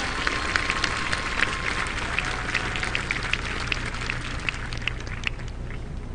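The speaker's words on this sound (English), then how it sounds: "Let's recognize them by giving a round of applause" A graduation ceremony crowd applauds the class of 2022 graduates, a continuous, fairly distant spread of clapping from many people at an even level throughout.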